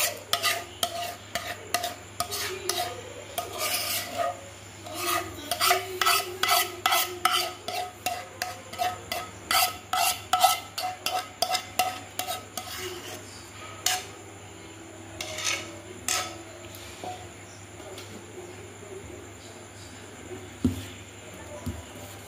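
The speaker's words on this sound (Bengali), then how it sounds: "এবার দুধটাকে পুরো দইটার সঙ্গে মিশিয়ে নিলাম।" A spoon stirring milk and mango into yogurt in a bowl for aam doi, rhythmic scraping strokes in a steady run that slows and turns sparse, with someone speaking Bengali between strokes.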